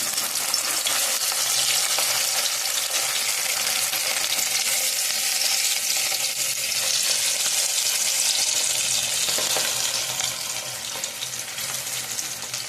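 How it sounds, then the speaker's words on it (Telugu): Dry fish pieces frying in hot oil, a loud, continuous crackling sizzle that stays close and even for the whole stretch. "మనం ఇది నూనె అయితే కాగిపోయింది. చేప ముక్కలు మనం వేసేసుకుందాం."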